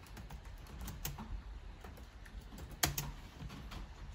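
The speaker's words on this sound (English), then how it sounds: "you have to type here" Someone types on a computer keyboard, tapping out an irregular run of light key clicks at a modest pace with one sharper keystroke near the end, close by and quiet, with no talking.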